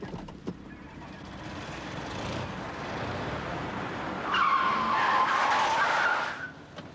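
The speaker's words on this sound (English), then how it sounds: "I want you to put that car into first gear and move it" A car pulls away with tyres skidding and squealing, the screech rising loudly midway over a steady engine roar before fading.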